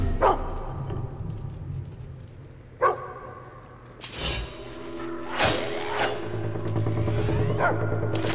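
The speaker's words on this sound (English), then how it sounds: "Dog." A dog barks in the Fable 2 video game, with several sharp, separate barks spaced across the clip over a low, steady game background.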